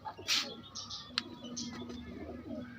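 Pigeons for sale make low cooing sounds amid light chirps and scattered rustling clicks, close and moderately loud against a quiet background.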